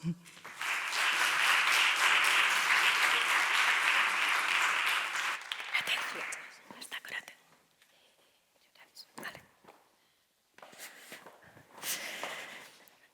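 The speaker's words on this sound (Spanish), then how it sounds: "Un aplauso." An audience at an educational talk on teaching gifted students breaks into loud, sustained applause that dies away after several seconds, leaving scattered claps and rustling before a speaker begins.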